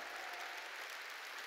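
A church congregation claps together in sustained, dense applause, a continuous patter of many hands heard at a distance, quiet and even throughout.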